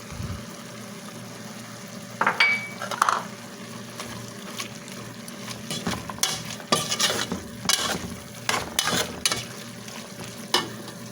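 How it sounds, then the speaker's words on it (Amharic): Meat with added spices sizzles in a pan, a steady close frying crackle broken by bursts of sharper popping and scraping stir strokes, with no voices. "ይኸው እዚህ ጋር ደግሞ ቅመማ ቅመም ጨምሬበት ትክትክ እያለ ነው"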